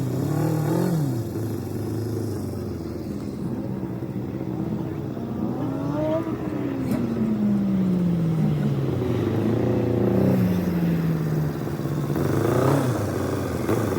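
A Mitsubishi 3000GT on an autocross course, its engine revving up and down in repeated sweeping pitches as it accelerates and brakes through the turns, heard from trackside at moderate distance.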